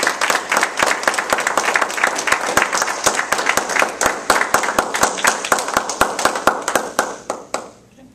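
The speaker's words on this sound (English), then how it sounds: "please give a warm round of applause for Mickey Thomas." Audience applause at a Toastmasters club contest results announcement, a mid-sized crowd clapping briskly with distinct individual claps, sustained for several seconds and then tapering off at the end.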